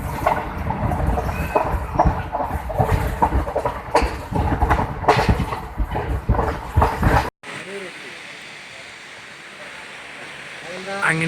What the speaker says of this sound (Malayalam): ട്രെയിൻ ഇതാ മൂവ് ചെയ്തുകൊണ്ടിരിക്കുന്നു.